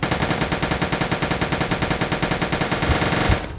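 Sustained machine gun fire in a World War II Soviet Soldier shooter game, a rapid, evenly spaced stream of loud shots running unbroken for several seconds, close and dominant with no talking.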